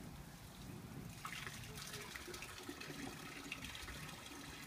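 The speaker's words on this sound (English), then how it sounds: "Really, it's coming out of the hose, the water." Water trickles and splashes from a garden hose outdoors in a soft, continuous flow, faint and steady, with muffled voices in the background.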